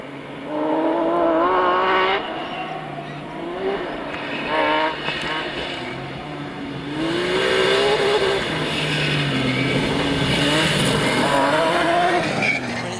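A two-wheel drive rally car at the Scottish Rally 2019 races along a gravel stage, its engine loud and close, revving hard through the gears with shifting pitch and bursts of acceleration, with no talk.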